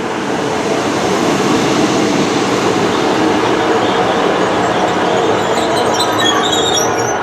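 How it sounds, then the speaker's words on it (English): An Arriva Trains Wales class 152 diesel unit in new livery rolls through Severn Tunnel Junction station, a loud, close, steady rumble of wheels on rail with faint squeals at the end, no voices. "It's a 1635 Arriva Trains Wales service to Cheltenham Spa"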